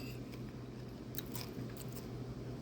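Soft, close chewing and crunching of Southern cornbread salad, quiet bites and mastication repeating irregularly with no talking.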